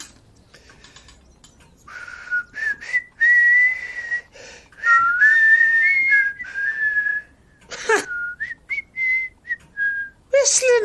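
A person whistles a wandering tune in long clear phrases with brief pauses, close and fairly loud, ending in a few short rising notes; no talking.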